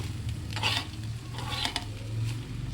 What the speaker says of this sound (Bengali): তারপর ভাতগুলো দিয়ে নাড়তে থাকবো